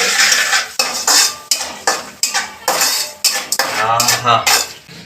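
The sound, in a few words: mixing rice with cashews using a spoon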